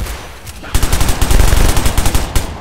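Loud automatic gunfire from the dinosaur-hunting game Orion Dino Beatdown, dense rapid bursts that start after a quieter opening and pound steadily to the end, with a final burst near the close.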